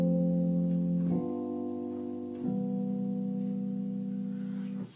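A ii-V-I chord progression in basic form, ending on a G dominant seventh before the resolving chord: three sustained chords in turn, each held about a second or more, smooth and mellow with no talk.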